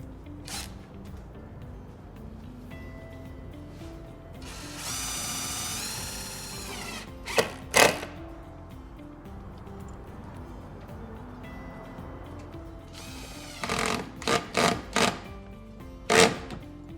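A power drill drives screws to fasten a soft-close drawer slide into a cabinet box, giving a sustained whine near the middle and several short, sharp bursts later, close and loud over a quiet workshop background.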